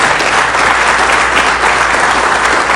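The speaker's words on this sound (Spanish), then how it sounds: "Creo que este aplauso es para nuestras Fuerzas Armadas y para nuestra Policía Nacional" Dense, steady applause from a large audience honoring Ecuador's armed forces and national police, loud and continuous throughout with no voices on top.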